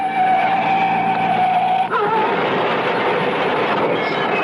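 A car engine roars and then gives way to a rough skidding rumble as the car is forced off the road, a sound effect in a 1970s CBS radio mystery drama. The sound is loud and steady throughout.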